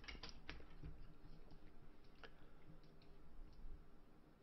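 Quiet computer keyboard typing: a few scattered, close keystroke clicks over a low steady background hum, with no one speaking.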